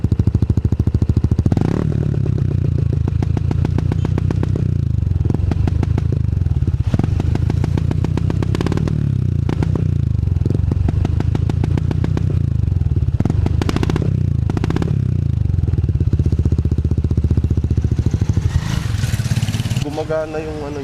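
A Yamaha NMAX V3 scooter idles on its center stand, with a steady, loud, close engine chug that runs throughout, plus a few clattery thumps and a slight rise near the end.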